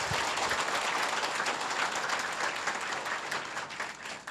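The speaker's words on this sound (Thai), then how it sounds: "ไหนขอฟังเสียงปรบมือของเจ้าของบริษัทลูกดังๆ" Audience at a Giffarine business seminar breaks into loud, sustained applause, a dense wash of clapping that holds steady and tapers slightly near the end, with no talk over it.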